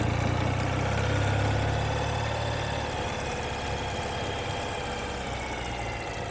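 A 2017 Ural Gear Up sidecar motorcycle engine running in second gear, a loud, steady, low throbbing drone with a deeper rumble easing after the first few seconds.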